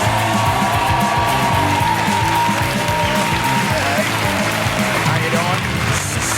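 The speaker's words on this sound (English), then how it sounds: "Keep that applause going for our sensational headline act." A live stand-up comedy crowd in London applauds and cheers a headline act, a steady dense wash of clapping under music and an announcer's voice.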